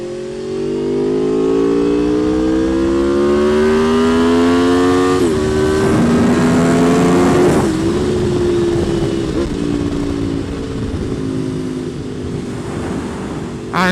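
An Aprilia RSV4 Factory sport motorcycle's engine revs loudly and close, its pitch climbing steadily through several rising sweeps, then holding at a high, rough drone that fades slightly toward the end.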